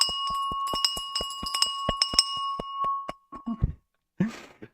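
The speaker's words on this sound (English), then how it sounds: "I'll give the opening bell for Christmas Eve half day." An opening bell is rung for a stock market open on a Christmas Eve half day, a rapid run of about a dozen sharp metallic dings, then a few softer knocks and a brief rustle.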